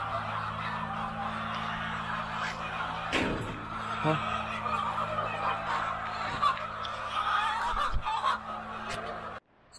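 Hens on a village poultry farm housing over 3,000 birds cluck and squawk in a continuous, busy chorus over a steady mechanical hum, with a few sharper calls and knocks standing out.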